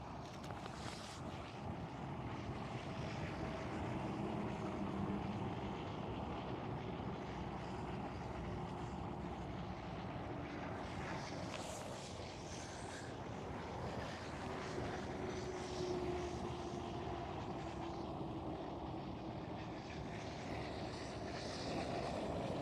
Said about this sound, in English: The German Airways is crossing the center runway right now